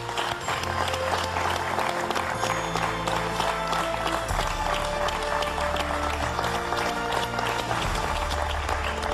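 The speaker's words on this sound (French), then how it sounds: "On peut applaudir, je crois, à Logan qui quitte la compétition aujourd'hui." Studio applause for a contestant leaving a televised cooking competition: steady clapping from a small group, heard under a continuous music bed with low bass throughout.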